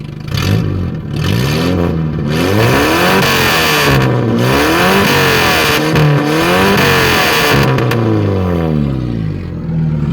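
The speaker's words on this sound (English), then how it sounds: "I'll give her a quick rev for you, a quick brap." A 1994 Suzuki Sidekick mud truck engine revs up and down repeatedly, loud and close, its pitch rising and falling in several swells with no talking.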